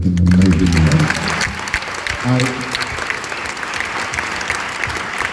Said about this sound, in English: round of applause to Steven Soderbergh for making an amazing movie